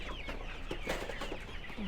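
Chickens cluck and murmur at an outdoor market, several birds close by in short irregular calls over a soft steady background hum, with no talking.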